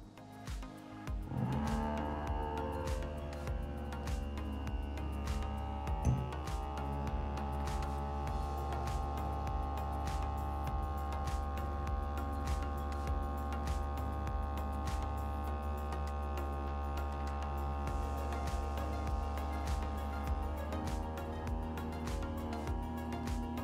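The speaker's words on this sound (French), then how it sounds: "je vais allumer la machine et rester appuyé 2 secondes" A portable OutIn capsule coffee machine heating water and brewing gives a steady low electrical hum with faint tonal whine and small clicks, quiet and continuous throughout.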